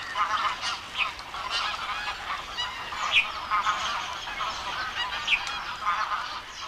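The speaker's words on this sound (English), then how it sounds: "the marshes are bursting with the arrival of tens of thousands of waterfowl from Siberia" Tens of thousands of migratory waterfowl from Siberia, Mongolia and China call across Indian marshes, a dense constant chorus of honking goose-like cries, many overlapping and some standing out nearer.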